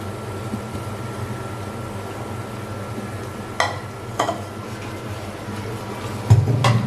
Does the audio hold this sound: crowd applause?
no